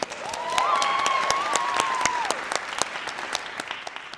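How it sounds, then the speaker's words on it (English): A theater audience at a Shakespeare monologue and scene contest breaks into loud, dense applause, with a brief high whistle early on before the clapping gradually thins. "a round of applause for them"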